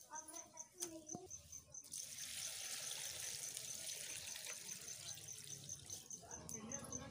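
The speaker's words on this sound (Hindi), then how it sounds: "अब इसमें हम पानी डालते हैं।" Water pours into a cooking pot packed with elephant foot yam and covered with tamarind leaves, a steady rushing splash lasting several seconds. Faint clicks and handling noises come before and after it, in a quiet setting.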